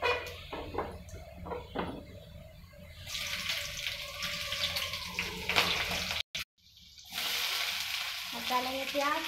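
Panch phoron and green chilli frying in a pan, a steady bright sizzle with stirring clinks and scraping, a short break, then the crackle returning close and moderately loud.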